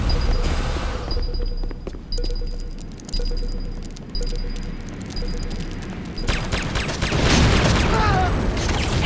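Video-game explosions tear apart the Hand of Nod barracks in Renegade, heavy booming blasts and crackling debris rolling continuously through the scene, swelling louder in a dense burst near the end.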